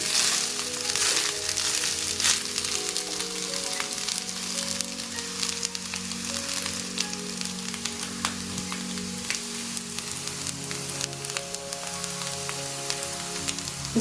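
Carrot rice sizzles and crackles loudly in a hot pan as it is stirred, a continuous close frying hiss with small scraping stirs throughout.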